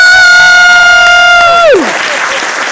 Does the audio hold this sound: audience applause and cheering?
yes